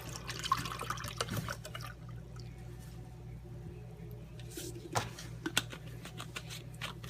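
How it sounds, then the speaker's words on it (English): Lemon juice pours into a cup, making a soft liquid trickle with a few faint splashes and clinks, fairly quiet and close. "I take a cup, fill it with lemon juice,"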